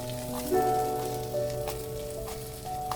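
Onion and ginger sauté in a clay pot for mutton kuzhambu, giving a steady, close sizzle with faint tonal background music layered beneath.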